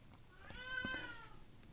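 A black cat lets out a single drawn-out meow that rises and falls, soft and fairly close in a quiet room.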